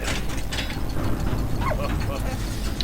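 A lever mechanism ratchets in the World War I video game Valiant Hearts, clicking and grinding over steady game ambience, with someone talking over it.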